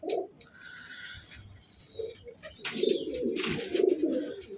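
Pigeons coo in soft, throaty bursts at close range, a few short calls early, then a longer, louder run of overlapping coos near the end with faint rustling between.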